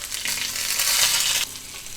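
Mustard seeds, onion and curry leaves hit hot ghee and sesame oil in a kadai, bursting into a loud, bright sizzle for about a second before dropping abruptly to a quieter hiss.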